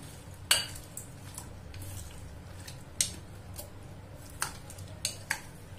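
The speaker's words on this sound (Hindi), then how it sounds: "दो तेज पत्ते, दालचीनी, लौंग, काली मिर्च डाल के अच्छे से मिला लेंगे।" Bay leaves, cinnamon, cloves and black pepper are mixed with onions and water in a bowl for vinegar onions, heard as soft stirring with a few distinct metallic clinks of a spoon against the dish spaced through the clip.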